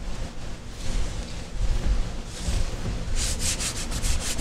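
Oil paint is rubbed over a painting in soft, scratchy strokes that come in uneven bursts. A quick run of faster, brisker rubs closes it out.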